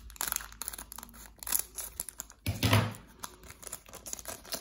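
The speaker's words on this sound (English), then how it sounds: "I think I'm just gonna use the scissors." Scissors snip open a foil Magic the Gathering Homelands booster pack up close, a burst of crinkly cutting and wrapper rustle mid-clip amid light handling clicks.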